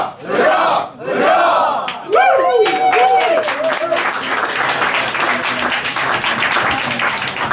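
Large audience at a 70th birthday celebration for Mikael Ramel shouting a rhythmic hurrah chant for the legends, a loud close group cry repeated several times, mixed with clapping and cheering.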